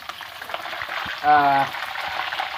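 Jackfruit leaves fry in hot oil with a steady, close sizzle and bubbling, swelling briefly louder midway, with a faint voice in the background.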